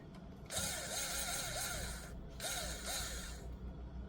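Small screws being backed out of the toolhead circuit board on a QIDI Plus4 3D printer, two quiet bursts of ratcheting, whirring driver noise with repeating squeaky turns, separated by a brief pause.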